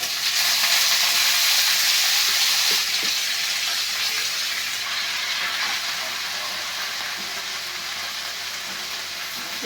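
Amaranth leaves sizzling in a hot pan with dried red chillies, garlic and cumin, a loud continuous frying hiss that eases slightly over time, with a few faint clinks.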